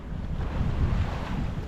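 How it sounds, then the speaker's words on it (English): Rough, big seas wash around a sailboat off the San Diego coast as strong wind buffets the microphone, a steady close roar with no voices. "We're getting some seas, some big old rough seas out here"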